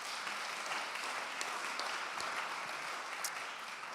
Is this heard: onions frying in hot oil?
no